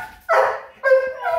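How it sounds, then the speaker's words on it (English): Two bursts of dog barking, loud and close, each a sustained bark or howl separated by a short pause. "It's dogs, I tell ya."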